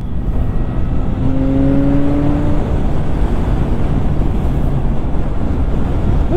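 A 2025 CFMOTO 675NK motorcycle riding along, a steady engine drone with rushing wind noise and a brief rising tone, heard from the rider's position.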